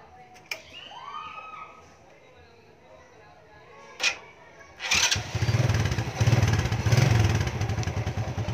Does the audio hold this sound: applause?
no